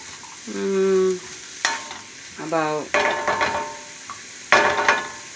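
Breakfast quiche filling sautéing in a pan gives off a steady low sizzle, broken by stirring scrapes, a few brief tonal squeaks and sharper clinks of utensil on pan.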